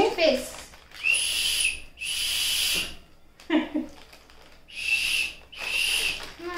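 A small plastic toy whistle that came as a free gift in a snack packet gives a series of shrill, piercing blasts in short bursts, with brief low voices between them.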